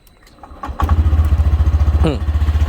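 A small 2020 Honda Scoopy i motor scooter engine cranks by electric start and catches, then settles into a steady, close putter; a brief voice-like chirp rises midway.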